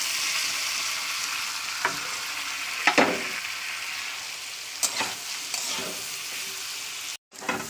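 Boiled vegetables are tossed and stirred in hot oil in a wok, a constant close sizzle with several sharp scraping strokes of the spatula scattered throughout and a brief cut near the end. No voices.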